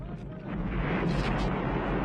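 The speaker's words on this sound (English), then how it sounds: "Still dealing with explosions." Explosions in the film Rambo: First Blood swell into a heavy, sustained rumbling roar that grows louder after the first half second and stays dense throughout.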